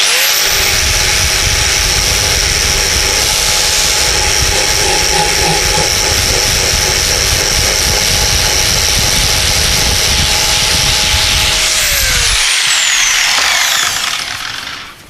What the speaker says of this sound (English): using my nice soft flapper wheel rather than the grinding wheel